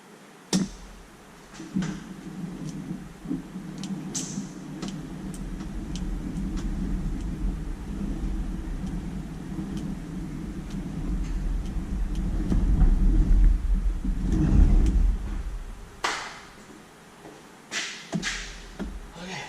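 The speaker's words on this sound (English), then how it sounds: "I'm gonna grab the back wheel and give it a spin." Back wheel of a side-by-side UTV spun by hand, a low steady whirring rumble that builds to a peak and then fades, with a few clicks and knocks near the end.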